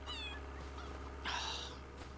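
Cats meow in Farming Simulator 25, with a short high meow at the start and a longer, louder meow midway over a low steady hum, fairly quiet overall.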